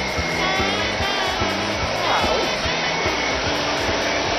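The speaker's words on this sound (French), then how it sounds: "Avec ce nouvel aspirateur, plus besoin de faire tout ça. Regardez, on le met en marche." A new vacuum cleaner switched on to suck up spilled coffee and breadcrumbs gives a loud, steady motor whine with a rhythmic pulsing hum, running continuously without talk.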